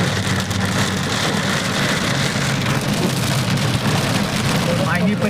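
Heavy monsoon rain pouring over the Mayani area, a dense, steady hiss of drops on surfaces throughout, with faint traffic underneath.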